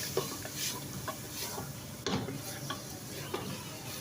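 Diced potatoes stir-fried in a pan for aloo keema, with steady sizzling and repeated scraping strokes of a spoon across the pan, close and moderately loud throughout.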